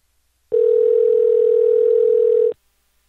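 A single steady electronic beep from a home answering machine plays during a phone call, a clean pure tone lasting about two seconds, loud and isolated with silence before and after.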